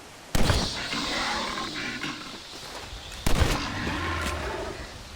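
Two loud gunshots ring out in the zombie-themed western game Red Dead Redemption: Undead Nightmare, each a sharp crack with a short rumbling tail, spaced about three seconds apart over quiet game ambience.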